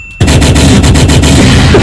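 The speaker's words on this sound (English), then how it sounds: "Gunshots. Da-da." Gunshot sound effects erupt suddenly after a brief quiet, a dense loud barrage of rapid bangs and booms that continues without a break.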